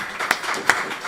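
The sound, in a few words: audience applause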